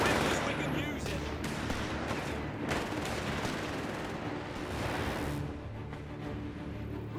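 In Company of Heroes 3, a Vickers machine gun fires in dense, continuous bursts. The fire blends with other gunfire and battle din, and voices speak over the fighting.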